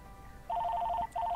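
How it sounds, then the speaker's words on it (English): A telephone rings in the video game Lake, with a warbling electronic trill in two bursts separated by a short pause, loud and close. "Phone rings."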